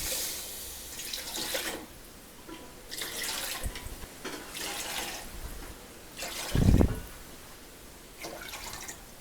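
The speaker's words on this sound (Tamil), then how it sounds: "1 கப் ஜீனிக்கு 6 கப் அளவுக்கு தண்ணி சேர்த்துக்கோங்க" Water is poured in several separate splashing bursts into a wide pot holding sugar for syrup, the streams close and clear, with short pauses between pours and one heavier splash near the end.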